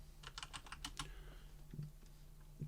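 Quick bursts of keystrokes on a computer keyboard as a terminal command is typed on a Raspberry Pi 4 server, close and quiet, followed by a few isolated taps under a low hum.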